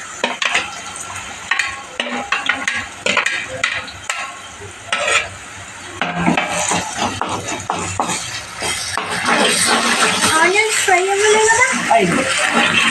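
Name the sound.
ginger and garlic added to the pan for chicken curry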